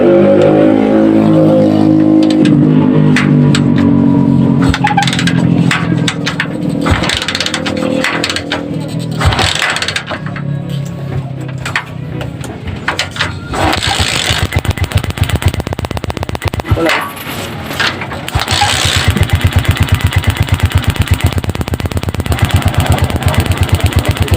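A motorcycle engine runs loudly and close while an old ignition coil is tested, producing a rough, rapid pulsing putter that shifts in pitch and grows harsher toward the end.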